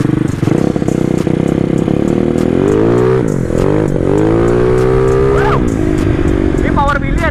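A modified Yamaha Mio racing-spec motorcycle with a retuned carburetor revs hard and loud, its engine note sweeping up and down through repeated throttle blips, close by, with some talk around it.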